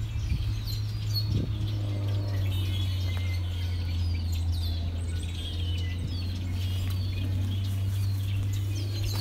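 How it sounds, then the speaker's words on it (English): Birds chirp and call intermittently at Vancouver Lake over a steady low hum, with scattered high tweets throughout; the hum stays constant and fairly loud. "you just have to listen to all these birds"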